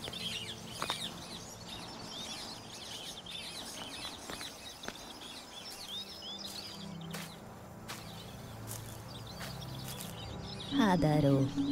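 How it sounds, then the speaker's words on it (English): Birds chirping and calling from trees in The Wild Eternal game, scattered light calls over a steady outdoor ambience, moderately near, with someone talking over them. "Birds in these trees."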